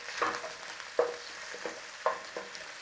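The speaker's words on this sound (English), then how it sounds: "It really does intensify the flavour by giving them a little stir fry" Mushrooms stir-fry in a hot pan as filling for vegetable egg rolls, sizzling steadily while a utensil scrapes and stirs in four or five distinct strokes, close up and alone.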